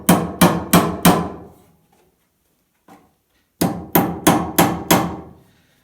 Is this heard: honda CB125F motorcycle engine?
no